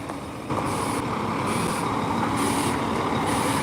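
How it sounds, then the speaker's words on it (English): A lorry reverses into position on a rainy city street, its engine rumbling loud and close while a reversing beeper pulses in regular, evenly spaced tones. "I'm trying to reverse this lorry."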